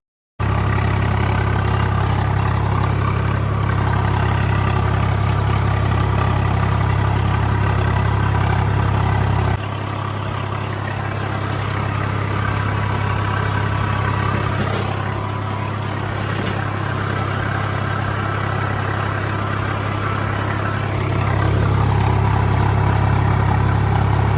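A tractor engine idles steadily with a deep, constant rumble and vibration, shifting slightly in tone partway through, with no voices.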